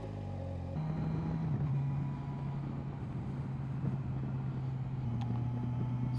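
Kawasaki Versys 1000 SE motorcycle cruising on the road, its engine a steady low drone under constant wind rush, with a slight shift in pitch as the revs change partway through.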